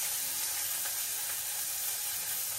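Chopped onions frying in a pan, a soft, even hiss and crackle held at low volume throughout, with no voices.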